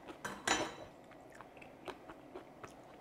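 Close, wet chewing and crunching of a big bite of Korean galbi jjim, braised beef short ribs, with kimchi: a louder bite at the start, then soft rhythmic mastication sounds in a quiet room.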